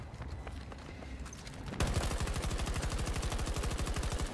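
Rapid automatic gunfire with heavy recoil in Battlefield 2042 breaks out suddenly after a quieter stretch and keeps going as a dense, evenly spaced burst of loud shots.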